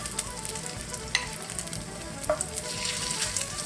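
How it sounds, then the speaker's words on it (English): Leftover salmon fish cake fritters frying in a pan, a close, steady sizzle with small pops and a few light utensil taps, no voices. "Pat them down a bit to flatten so they fry evenly."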